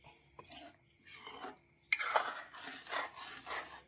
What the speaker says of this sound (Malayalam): ഒന്ന് മിക്സ് ചെയ്ത് വെക്കുക.